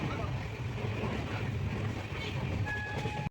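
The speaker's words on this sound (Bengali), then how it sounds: "সঠিক সময়ে ট্রেন ছেড়েও দিল এবং ছুটে চললাম অযোধ্যা ধামের দিকে।" Kolkata–Jammu Tawi Express train under way after leaving the station, heard from inside as a steady, close rumble and rattle with a brief squeal near the end.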